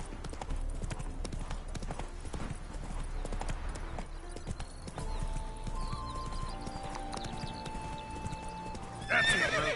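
Roach, the horse in The Witcher 3: Blood and Wine, clip-clops steadily at a trot with a loud whinny near the end, over game music and ambient sound.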